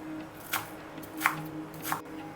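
A knife chops fresh coriander finely on a board with a few crisp, separate strokes about two-thirds of a second apart. The cuts are quiet but close, with no talking over them.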